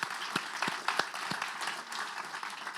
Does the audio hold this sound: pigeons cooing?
no